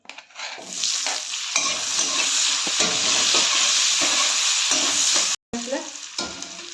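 Onion with cinnamon, cloves and black pepper frying in oil left from cooking prawns for a prawn curry: a loud, continuous crackling sizzle with stirring scrapes, a brief dropout near the end before the sizzle resumes.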